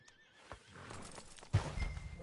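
A horse in the video game Red Dead Redemption 2 gives a loud, close whinny, joined by hoof clip-clops and a snort-like burst near the end, with no speech.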